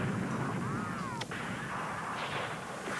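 Artillery barrage from a dramatized wartime trench scene, a dense steady roar of distant booming fire with a sharp crack near the middle and faint whistling tones, no talk over it.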